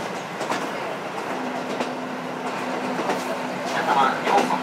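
KiHa 54 diesel railcar running between Horonobe and Wakkanai on a special express, steady interior rumble with rhythmic wheel clicks and a faint squeal building near the end, heard from inside the car.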